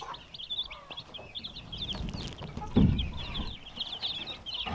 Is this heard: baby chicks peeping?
yes